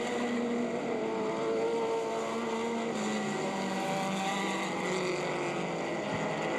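Race cars on a short oval track, with the leaders in traffic through turn four, make a continuous, steady engine roar that stays loud and dense throughout with no talk over it.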